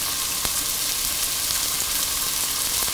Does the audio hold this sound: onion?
yes